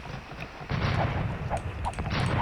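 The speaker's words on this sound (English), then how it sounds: "now he's shooting the little galleys with his conquistadors" Conquistadors firing on galleys in the Age of Empires II video game, a run of muffled gunshot and cannon-like booms over steady battle noise, with several sharp reports in quick succession.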